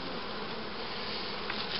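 Honeybees hum steadily around an open beehive colony during a hive check before winter, a dense, continuous buzz close by with no voices.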